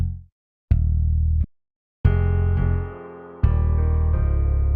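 Bass line from a beat built in FL Studio for an emotional track: loud, deep sustained bass notes in separate held blocks with short gaps, later joined by brighter harmonic tones.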